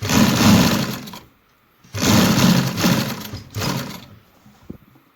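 A sewing machine stitches a strip onto a baby boy's kurta, running in three close, steady bursts with short pauses between and a soft click at the end.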